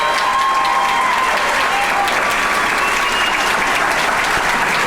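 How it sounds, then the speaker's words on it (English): Sustained applause from a campus ring ceremony audience, loud and dense throughout with a faint crowd murmur beneath. "can you all give Taylor a big round of applause as he runs across campus?"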